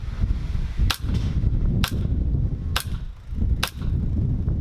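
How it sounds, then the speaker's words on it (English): Upgraded JAG Precision Pitviper airsoft sniper rifle firing four sharp, evenly spaced snapping shots about a second apart, close and loud over a low rumbling outdoor background. "Oh, it sounds like it's shooting a lot higher."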